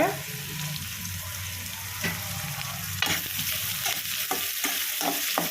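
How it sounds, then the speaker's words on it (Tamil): Onions and spices sautéing in a pan for chicken curry, a steady sizzle with repeated scraping stirs from a spoon, close up and moderately loud. "கொஞ்சம் நல்லா இதுவாக பொன்னிறமாக வதங்கணும்"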